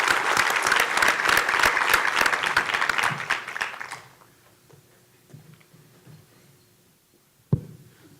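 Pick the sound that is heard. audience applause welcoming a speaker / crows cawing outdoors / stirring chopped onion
audience applause welcoming a speaker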